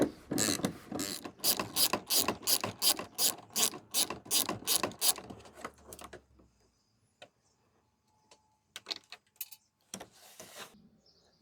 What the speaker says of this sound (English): we need the 8mm socket and the ratchet